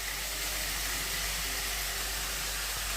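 Spinach sautéing in hot oil with fried onions, turmeric in the tempering, a steady broadband hiss and sizzle that runs unbroken at close range with no voices.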